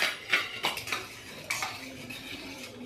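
A spoon stirs panakam in a pot after cardamom and black pepper powder go in. Several sharp, close metallic clinks and scrapes ring out in a loose rhythm, with no other sounds.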